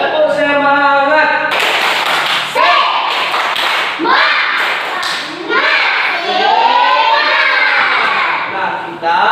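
A class of schoolchildren performs a rhythmic spirit clap, bursts of patterned clapping mixed with children chanting along and a teacher's voice leading, loud and close in a classroom.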